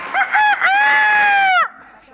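A rooster crows loudly and close as a sound effect, starting with a couple of short clucking notes before one long drawn-out cock-a-doodle-doo that cuts off sharply.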